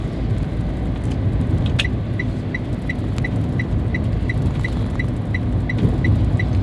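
A Putra Remaja long-distance coach, number 197 on the Jambi–Yogyakarta route, climbs an uphill stretch of the Trans-Sumatra eastern highway near Palembang: a steady, close engine and road rumble with a regular series of short, high beeps ticking over it.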